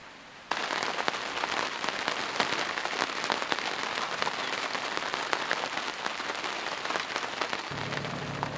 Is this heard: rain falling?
yes